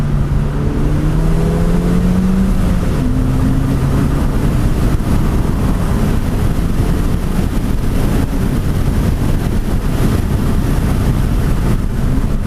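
A Ford Fiesta ST on a canyon run gives a steady, loud engine drone with shifting pitch as it accelerates, heavy wind and road rumble filling the cabin throughout.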